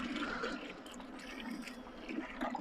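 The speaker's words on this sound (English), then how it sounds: "The reason you stir is because the dry malt extract can clump up." Dry malt extract is stirred into water while brewing a West Coast saison beer, giving a soft continuous sloshing and swirling of liquid, fairly quiet and close.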